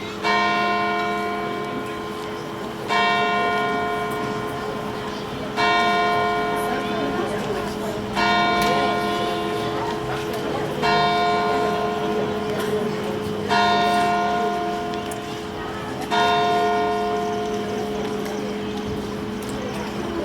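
A church bell tolls six times at a steady pace of roughly one stroke every two and a half seconds, each strike ringing out and decaying over a sustained low hum at a band concert.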